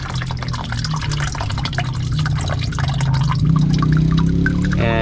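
Engine oil drains from a Ford Ranger 4.0 V6 into a pan, pouring and splashing in a continuous loud stream up close. The pitch rises slightly as the pan fills.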